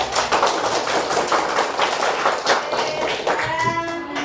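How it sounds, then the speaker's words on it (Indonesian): A classroom group claps for the first team during a coding and artificial intelligence lesson, the close patter of many hands running steady and dense before fading as a voice rises near the end. "Oke, beri tepuk tangan dulu untuk kelompok 1."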